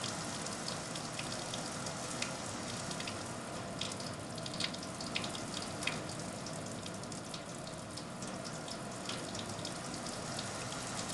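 Water runs steadily from a tap and falls off the bent elbows during a five-minute surgical brush-stroke hand scrub, with soft irregular splashes and drips under a constant rushing hiss.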